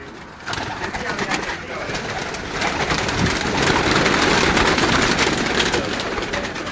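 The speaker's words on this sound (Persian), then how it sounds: "پروازی کبوتر ہیں اور یہ تمام کبوتر ان کے" Flying pigeons on a rooftop coo and flutter in a dense, continuous chorus that swells louder midway, with faint voices mixed in.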